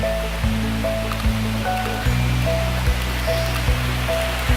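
Water rushes steadily in a stream beside picnic and camping grounds in a forest, a continuous close wash of flowing water with low rumbling and a faint periodic hum from machinery underneath.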